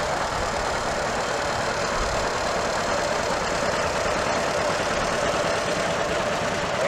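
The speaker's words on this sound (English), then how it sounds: "that's Brad driving a tractor, 1938." A 1938 tractor engine idles at an outdoor tractor parade, a steady loud chugging rumble with a knocking, mechanical texture that holds constant throughout, no talking.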